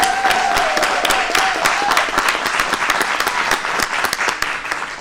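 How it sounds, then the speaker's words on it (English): At a school board meeting, attendees applaud with dense, close hand claps that carry on steadily, individual sharp claps standing out, and a brief tone plus murmur of voices underneath at the start. "Please give him a round of applause"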